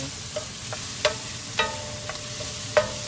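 Shrimp frying in a pan give a steady low sizzle, with a few distinct utensil taps and scrapes spaced through it and no voices.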